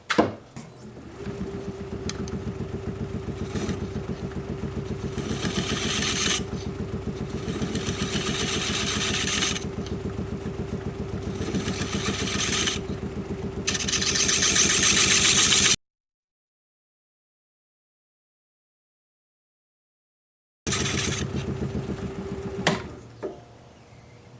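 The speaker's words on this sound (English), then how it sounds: "I'm going to go ahead and use my recess tool since I have one." A wood lathe turns a cherry burl platter while a recess tool cuts a dovetail recess, giving a steady motor drone with a scraping cut. The sound breaks off into several seconds of silence, then returns briefly.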